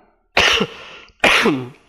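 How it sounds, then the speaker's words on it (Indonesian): Two separate harsh coughs from a man, close and fairly loud, with a short silent pause between them and no talk. "Maaf, saya batuknya."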